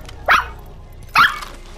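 A dog barks twice, about a second apart, sharp and close, with quiet background between the barks.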